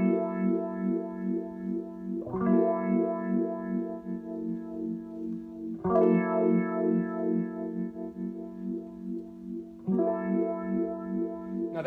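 Sustained synth tone through a frequency shifter with a sweeping, wah-like modulation that rises and falls, with sharp shifts recurring every few seconds, steady and moderately loud.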